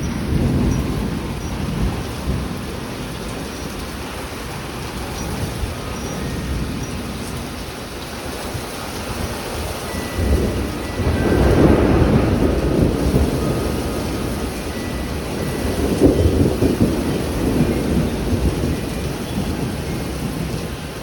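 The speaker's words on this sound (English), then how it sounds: "There's so many little bits of hail." A huge thunderstorm in Middleburg with steady rain and hail pelting down, broken by deep thunder rumbles swelling loudly around mid-clip and again later, with no talking.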